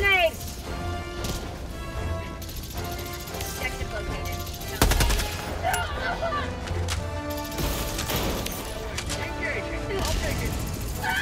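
Grenade throws and gunfire rattle through a Helldivers 2 battle against the Automatons, with dense bursts of shots, a sharp blast near the middle and steady loud combat noise throughout, voices mixed in.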